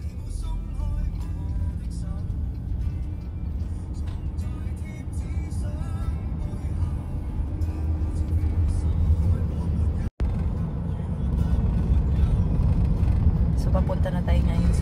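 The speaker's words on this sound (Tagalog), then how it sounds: "So, yun yung mga bus nila dito." Buses and other traffic rumble along a street in Macau, a steady mid-level road noise with engines passing nearby and a brief dropout partway through.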